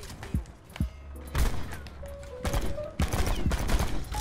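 Gunfire in a shooter video game: scattered single shots and short bursts, fairly close and sharp, with a brief whistling tone between them and no one talking.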